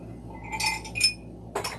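Glassware clinking during a home birthday happy hour as someone rummages for a drinking glass, with two or three close, bright chinks spread over a couple of seconds above a low room hum.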